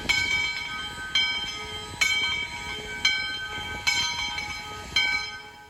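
U.S. Sugar steam locomotive 148 rolls past, its bell ringing steadily about once a second over the rumble and clank of the moving train.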